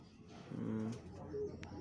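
A fulshira pigeon of a fifteen-generation line gives a short low coo, then a second briefer one, close up in a quiet loft with soft rustling between calls.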